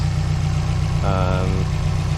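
Turbocharged 2006 Subaru WRX wagon engine with aftermarket intake, turbo inlet, crank pulley and exhaust idles with a steady low burble, a brief higher tonal rise partway through, continuous and close.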